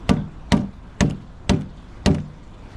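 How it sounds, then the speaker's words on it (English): A DeWalt hammer whacks a timber sleeper into place for a pond build, five sharp, evenly spaced knocks at close range, about half a second apart, with no talk. "So use the DeWalt hammer."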